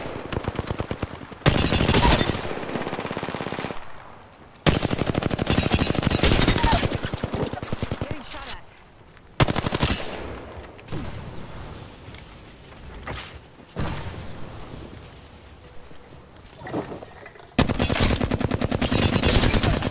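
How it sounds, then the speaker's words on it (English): Bursts of rapid automatic gunfire in Apex Legends come in several loud, sustained volleys separated by quieter gaps with mechanical clicks and creaks. "Getting shot at."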